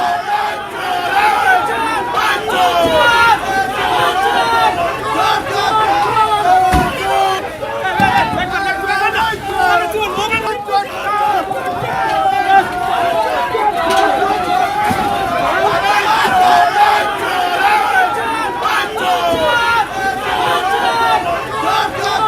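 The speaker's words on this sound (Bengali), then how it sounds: "কোচবিহার তৃণমূলের প্রাক্তন জেলা সভাপতিকে লক্ষ্য করে চোর স্লোগান" A large crowd outside a Coochbehar court shouts 'thief' slogans at a former district TMC leader, a dense roaring babble of voices sustained throughout, loud and close, with occasional sharper cries.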